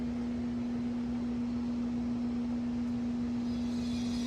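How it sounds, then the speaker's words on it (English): A vintage Sears box fan on a stand runs on its low speed, its motor giving off a steady, even electrical hum that holds unchanged throughout, fairly quiet and with no voices over it. "Quite a bit of motor hum too."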